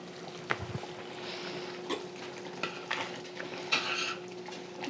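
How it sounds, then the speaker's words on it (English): Sauce is stirred in a pot with a spoon, giving soft scraping and a few light knocks against the pot over a quiet low bubbling, fairly close and irregular. "let me just stir that a little bit"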